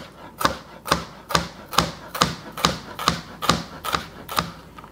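Knife slicing a vegetable into thin strips on a cutting board for Korean BBQ chicken taco slaw, a run of about ten crisp, evenly spaced chops close up, with no talking.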